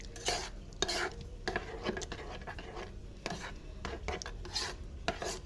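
A spoon scrapes and stirs hot homemade cream with cubes of ghee in a pan, giving steady rasping, rubbing strokes with occasional sharper scrapes against the metal, close and continuous.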